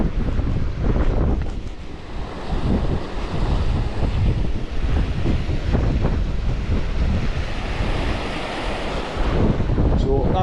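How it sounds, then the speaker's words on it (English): The Talla waterfalls give a steady, broad rush of falling water, heavily buffeted by wind against the microphone, with no clear voices. "the waterfalls start from there"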